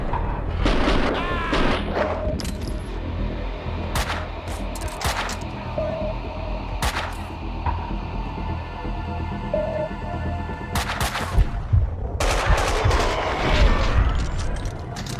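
Gunfire in the video game Max Payne 2, sharp shots in scattered bursts with a dense cluster near the end, over low game ambience and a short spoken line.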